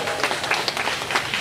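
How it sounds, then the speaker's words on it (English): Crowd applause at an art show in a brewery, a dense wash of many hands clapping at steady volume for a moment. "Round of applause,"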